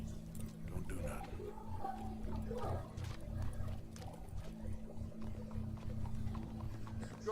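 Hooves clip-clop at a slow walk beneath low murmuring voices and a steady background hum, in the video game Red Dead Redemption 2.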